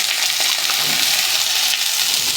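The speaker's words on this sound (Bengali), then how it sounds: "শুকো মাছটাকে দিয়ে একটু পেঁয়াজের সঙ্গে ভেজে দেব" Dried fish frying in oil with browned onion and garlic in a pan makes a loud, dense, continuous sizzle at close range.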